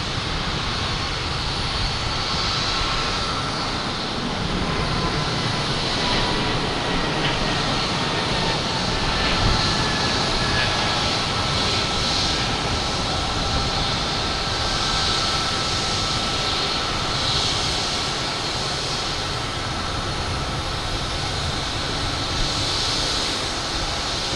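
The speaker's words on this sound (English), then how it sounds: "Let me get this JetBlue taken off to Cleveland in A220." A JetBlue Airbus A220 departs Boston Logan for Cleveland with a steady, broad jet roar that holds at an even level from a moderate distance throughout, with no voices.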